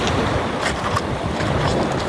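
Sea waves wash steadily along the shore at Lobo, Batangas, a constant close roar of surf blended with strong wind buffeting the microphone, with no one speaking.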